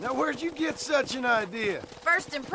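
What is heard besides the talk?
None of the usual background noises is heard.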